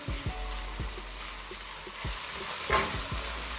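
Finely chopped carrots, green chillies and onion being stirred in a pan, with a soft sizzle under a series of regular spoon taps and scrapes, close and fairly quiet.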